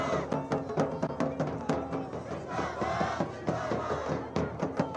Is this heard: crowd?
yes